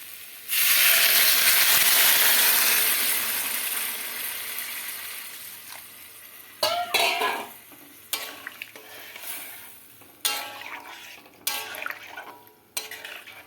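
Sautéed tomato and vegetables cooking as water is poured in, a loud hissing burst that fades, followed by scattered scraping stirs and softer sizzling.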